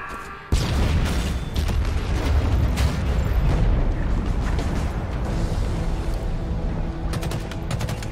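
An anti-aircraft cannon explodes in Halo Infinite, a sudden loud boom followed by a sustained roaring rumble with scattered crackling blasts that gradually thin out, with no talking.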